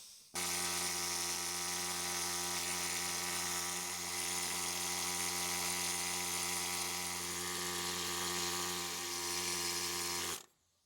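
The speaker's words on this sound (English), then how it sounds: "These ones are obviously not, so I'm going to hit these with the scaler" A scaler cleans corroded wheel lugs on a Ford F150 during a rear brake job, a steady loud mechanical buzz running continuously for about ten seconds, with no talk over it.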